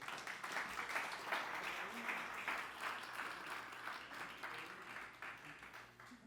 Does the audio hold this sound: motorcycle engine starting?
no